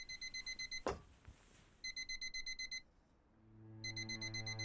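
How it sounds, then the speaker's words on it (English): Electronic alarm clock beeping in the video game A False Life, rapid repeated bursts of high beeps that stop briefly, then resume, with a thump and a low hum entering near the end. "An important alarm has awoken him to reality."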